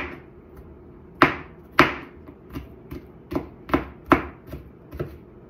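A knife chops garlic on a board for a Russian mushroom solyanka, about eight sharp, separate strikes with short gaps, close and clear with no talking.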